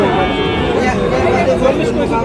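Sahiwal cattle at a busy village livestock market moo loudly and continuously, close by, amid a dense crowd of chattering voices.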